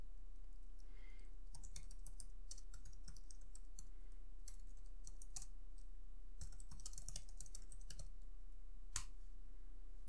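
Commands are typed on a computer keyboard, with quick bursts of close, light key clicks separated by short pauses over a steady low hum.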